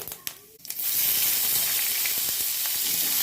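Chopped onion hits hot oil in a kadai already seasoned with bay leaf and cumin, a quiet clatter giving way after about a second to a loud, steady hiss and sizzle that holds to the end.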